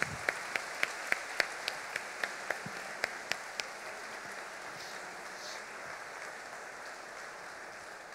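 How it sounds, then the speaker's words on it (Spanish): A congregation at a Catholic adoration and worship night claps in a few loud, separate, rhythmic claps, then the clapping thins into a soft, faint patter that fades. "Vamos a darles un aplauso de bendición."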